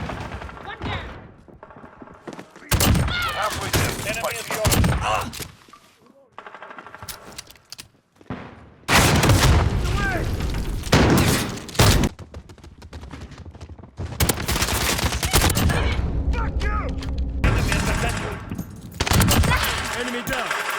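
Loud bursts of automatic gunfire from Call of Duty: Modern Warfare (2019) come in rapid clusters separated by short quiet gaps, with booming shots and in-game voices between volleys.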